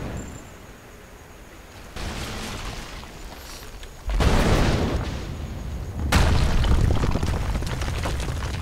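Gunshots fired to break a support brace in Rise of the Tomb Raider, three heavy booming blasts spaced about two seconds apart, each leaving a loud rumbling tail over a steady game ambience.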